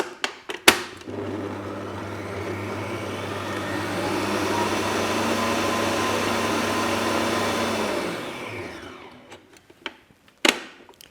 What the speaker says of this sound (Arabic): برجع بحطه في الخلاط وأستمر بالتقليب بنفس الطريقة